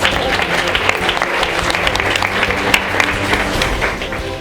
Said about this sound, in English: Can we have a round of applause for ourselves?